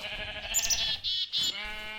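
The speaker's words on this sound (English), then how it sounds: "3 sheep stuck in a tree." Sheep bleat in a Minecraft-style video game, a few wavering, nasal bleats in quick succession, close and clear, with no talking during them.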